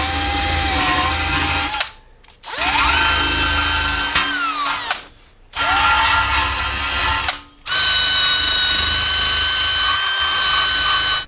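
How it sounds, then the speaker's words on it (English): Power drill spinning a wire wheel against a transmission gasket surface on a 1978 Jeep J10 TH400 service, loud whining bursts of grinding in four long runs separated by brief pauses. "I'm going to take a wire wheel and a drill and just clean up the gasket surface right here"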